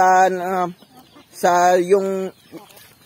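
Pet chickens being fed cracked corn and corn grits give two long, drawn-out clucking calls, loud and close, separated by a short pause with quieter sounds.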